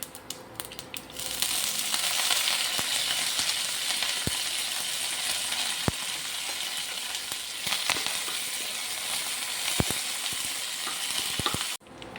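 Mustard seeds, dried chillies and curry leaves hit hot oil for a mango curry, bursting into a loud, dense sizzle with scattered sharp pops and crackles that runs steadily before cutting off abruptly.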